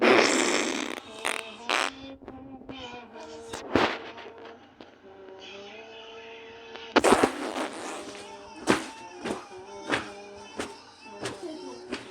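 Several short, sharp fart-like bursts, some loud and close, scattered through a noisy stretch with faint talk and background sounds.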